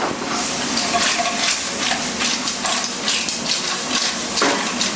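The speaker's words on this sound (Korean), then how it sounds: "자, 돼지고기 볶으세요" Pork stir-frying in a hot pan for Nagasaki white jjambbong, a loud, steady sizzle and hiss with scraping and tossing bursts running throughout.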